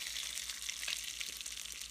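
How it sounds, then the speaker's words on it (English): Bacon fries in a pan with a continuous crackling sizzle, close and fairly bright, popping lightly throughout with no talking. "Look at that sizzle action, people."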